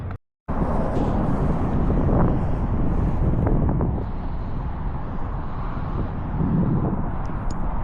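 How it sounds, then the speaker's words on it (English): Strong wind buffets the microphone outdoors, a loud continuous rumbling roar that drops out briefly at the start and then blows steadily, with no voices. "It's really windy"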